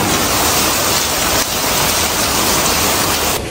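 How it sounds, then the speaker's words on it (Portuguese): Heavy rain pours down in São Paulo, a loud, dense, continuous hiss of downpour that fills the whole scene without letup. "Você viu a chuva que tá caindo aqui"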